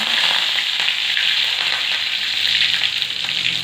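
Curry leaves sizzling in hot oil with mustard seeds already popped, cooked for a village-style mutton chukka; a loud, steady frying hiss with crackling pops, close up and with no talk.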